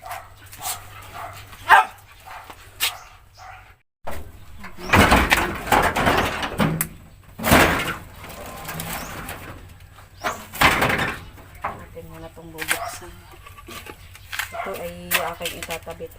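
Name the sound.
dogs barking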